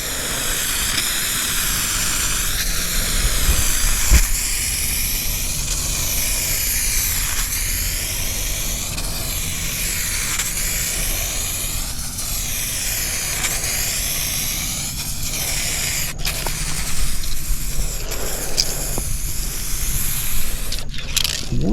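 Rust-oleum matte 2K clear spray paint hissing from an aerosol can in a continuous loud, close spray with rhythmic swells as the can sweeps back and forth in overlapping passes, ending with a few short clicks.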